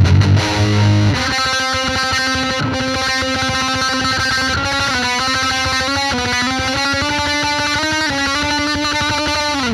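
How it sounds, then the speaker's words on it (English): Electric guitar played through a Fender metal distortion pedal built for old-school metal tones: loud, saturated sustained chords with a harsh buzzing edge, ringing continuously with no talking. "we did a heavier version of it called the metal pedal that's maybe for more old school metal players"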